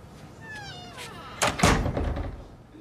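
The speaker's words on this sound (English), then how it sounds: "Shut the door." A door shutting in an office, a single loud thunk near the middle followed by a brief rattle, preceded by a high cat-like meow sound.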